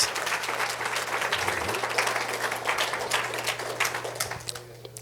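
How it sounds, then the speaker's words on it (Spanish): A church congregation applauds together during a Spanish-language sermon, dense sustained clapping filling the room at full strength, with a low steady hum underneath and the applause thinning slightly near the end. "Den el mejor aplauso al Rey de Reyes y Señor de Señores"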